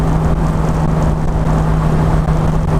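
A Mercedes-Benz 280SL cruises along, its engine holding a steady, close drone mixed with road and wind rush, no voices over it.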